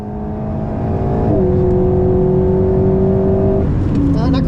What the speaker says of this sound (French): Embarqué avec une Alpine A110S très spéciale, celle de la gendarmerie